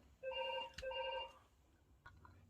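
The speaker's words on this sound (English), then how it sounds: "that was the phone ringing" A telephone ringing indoors during a scrapbook crafting session, heard as two short electronic bursts of ringing, fairly faint, followed by quiet room noise.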